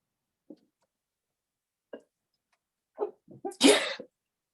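A single sharp sneeze bursts out after a few quiet breaths and small catches, loud and close.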